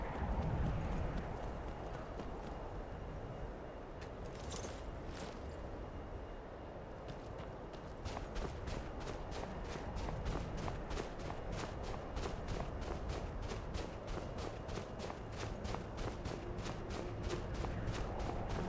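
Horse hooves clip-clopping in modded Skyrim, a rapid, regular clatter of hoofbeats that starts after a quieter stretch and keeps a steady gallop-like rhythm, fairly close, with no speech.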